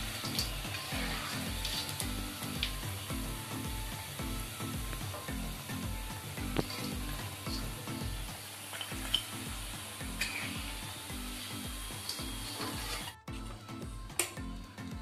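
Steady crackling sizzle of salted fish frying in hot oil, continuous and close, with a low rhythmic pulsing underneath and no voices.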